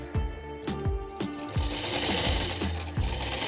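An electric sewing machine stitches a baby frock in short bursts, clattering rhythmically at close range, then runs a longer continuous stretch of stitching with a higher whirring tone, and nobody talks.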